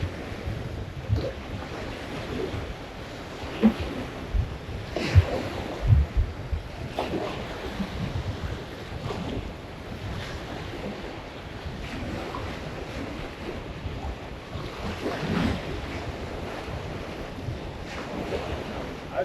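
Wind blowing outdoors by the water during a fishing trip, a steady rough rumble of gusts buffeting the microphone with wave wash underneath, continuous and fairly loud, with no speech.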